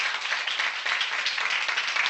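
A brief burst of audience clapping, dense and fairly loud, continues unbroken for a couple of seconds with no voices over it.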